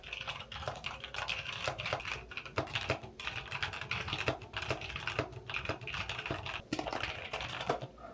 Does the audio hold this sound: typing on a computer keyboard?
yes